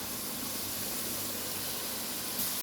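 Chicken pieces hit hot oil in a karahi with whole spices, ginger, garlic and green chillies, giving a steady, loud sizzling hiss that holds evenly from start to finish.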